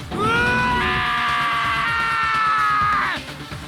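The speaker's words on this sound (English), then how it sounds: "Hey, I heard screaming." A loud, sustained scream from a character in the Danganronpa video game, one long drawn-out cry lasting about three seconds on its own before breaking off abruptly.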